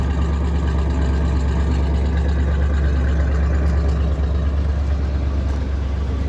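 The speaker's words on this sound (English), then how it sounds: "The engine is just a 350 4-barrel engine with dual exhaust." A 1970 Rallye 350 with a 350 four-barrel V8 and dual exhaust idles steadily and close, with a constant low rumble and no one speaking.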